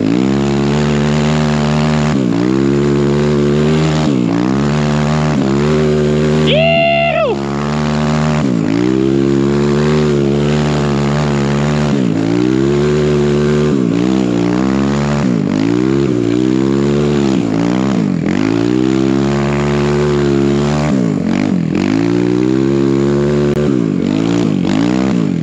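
A 4-stroke snow bike engine revving hard while drifting on a snowy road, loud and close with repeated rising and falling throttle sweeps and gear changes.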